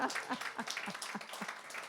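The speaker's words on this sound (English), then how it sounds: "we're not sure you should be clapping for that" A small audience claps at the Green Room 42 nightclub in NYC, scattered individual claps in a quick, loose rhythm, fairly faint and close.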